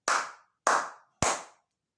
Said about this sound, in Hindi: भगवान भोलेनाथ की और 3 बार ताली बजा दो